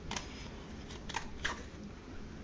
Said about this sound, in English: hold, stretch it and then cut the threads